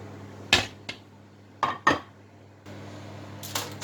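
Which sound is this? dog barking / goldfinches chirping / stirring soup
stirring soup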